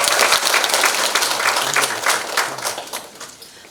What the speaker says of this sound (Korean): 한번 따뜻한 박수 부탁드립니다